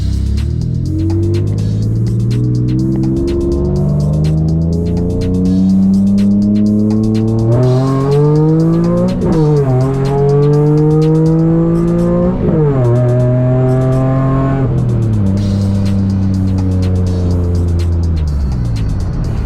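Ford Taurus SHO with a broken shifter accelerating hard from inside, engine revving loud and steady with rising pitch through several upshifts, each gear change dropping the note before it climbs again, no talking.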